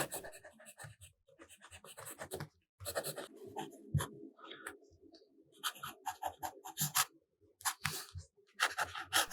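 A broad-nib fountain pen writing on paper with mustard-coloured ink, close scratchy strokes in irregular bursts separated by short pauses.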